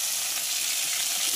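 Loitta fish frying in a pan, a loud continuous hiss of hot oil held close and steady throughout, with no pauses and no speech.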